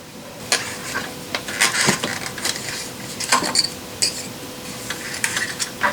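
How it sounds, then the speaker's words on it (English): Scattered metallic clicks and clinks come from a socket wrench working on the 10mm ignition coil bolts of a Nissan Murano, faint and irregular, with short ticking bursts spread across the quiet. "Unscrew these bolts and remove coils carefully. 10mm sockets."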